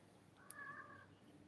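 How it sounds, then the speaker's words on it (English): A single drawn-out cat meow, faint and somewhat distant, rises briefly above a steady low background hiss with no talking. "Pardon the horny cats."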